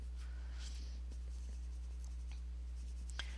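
Polychromos coloured pencils scratch across book paper in short, irregular strokes, soft and close over a steady low electrical hum, with no talking.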